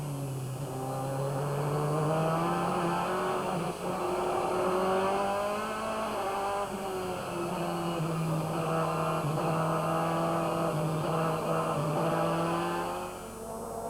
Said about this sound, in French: Voilà, Ekström au freinage.